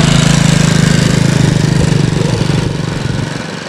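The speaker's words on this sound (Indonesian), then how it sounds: "Dan tampak pula mesin setum." A road roller's engine at a flyover construction site throbs nearby with a steady, loud, pulsing diesel chug that fades slightly toward the end.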